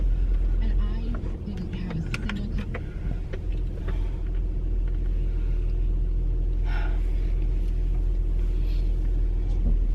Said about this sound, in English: It's like there's 16 trucks out here.